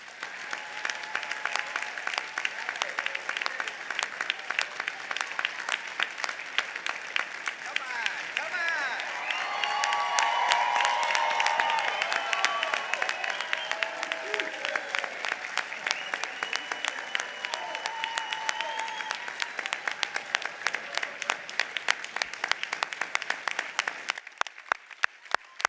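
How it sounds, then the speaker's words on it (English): Graduates of a business school ceremony receive sustained, dense applause from a large crowd, steady and loud throughout with brief cheering mixed in. "please join me in a round of applause for all of our graduates"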